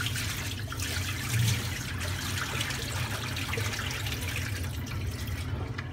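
Cloudy, starchy rinse water being poured off rice while cooking Persian rice, a steady trickling and splashing of liquid that runs continuously and fairly close, with no talking.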